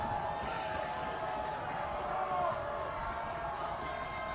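Steady crowd roar from a high school boys varsity playoff football game against North Andover, a dense continuous wash of many voices that swells slightly midway, with no single speaker standing out.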